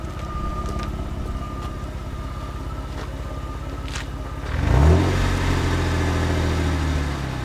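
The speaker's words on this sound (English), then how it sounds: "Rev it up a little bit so you can hear it." A 2008 Jeep Wrangler with a Dynomax cat-back dual exhaust idles with a low rumble, then revs sharply once and settles into a raised, throaty drone, close and loud.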